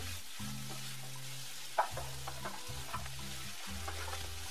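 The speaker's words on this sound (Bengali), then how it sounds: "দিয়ে ভালো করে একটু ফ্রাই করে নেব।" Capsicum, green peas, carrots and beans frying in a pan for mixed fried rice: a soft, continuous hiss with one or two stirring taps over steady low tones in the background.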